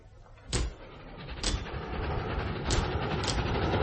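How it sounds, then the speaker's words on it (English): In a radio play, a train runs through a station without stopping, a rumbling, clattering roar that builds from faint to fairly loud over a few seconds with sharp metallic accents. "There's the train."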